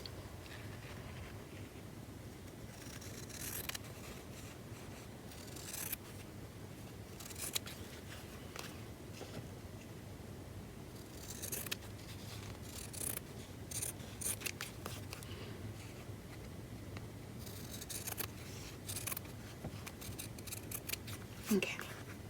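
Scissors snip through fabric for an Easter bunny collage junk journal cover: quiet, close crisp cuts and rubbing, scattered irregularly through a soft room hush.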